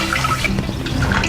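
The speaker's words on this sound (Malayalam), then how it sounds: "അപ്പം നമ്മളൊരു പാത്രം വെച്ച് 2 ലിറ്റർ വെള്ളം ഒഴിക്കാം" A steady stream of water, about two litres, gushes into a cooking pot, a continuous close splashing fill with no talk over it.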